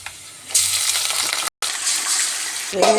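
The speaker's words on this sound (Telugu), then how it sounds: "మగ్గల్లా కడిగి పెట్టుకున్న చికెను దీంట్లోకి వేసుకోవాలి" Washed chicken pieces go into hot oil in a pan and set off a loud, close hiss and crackle that cuts out for a moment, then resumes with a clink at the end.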